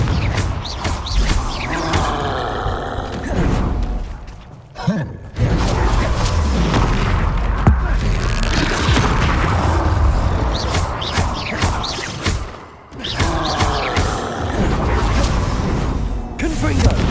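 Hogwarts Legacy spell combat, Confringo, Bombarda and Stupefy cast over and over, with dense booming blasts and crashes coming nearly nonstop, broken by two short lulls, loud and busy under spoken spell incantations.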